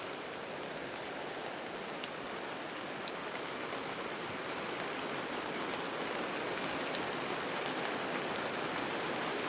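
Heavy rain pours down steadily in a dense, loud wash of drops, with a few sharper drips or taps standing out now and then and no voices.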